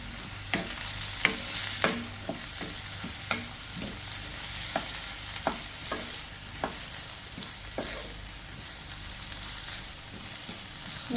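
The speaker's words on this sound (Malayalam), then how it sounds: "സവാളയും ഇഞ്ചിയും വെളുത്തുള്ളിയും എല്ലാം പെട്ടെന്ന് വഴറ്റി എടുക്കണമെന്നുണ്ടെങ്കിൽ" Onion, ginger and garlic sauté with salt in a pan, giving a continuous close sizzle broken by a regular series of scraping spoon strokes, with no voices.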